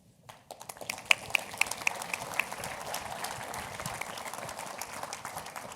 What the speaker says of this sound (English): Armine applauded louder than all of you did for the Minister of Finance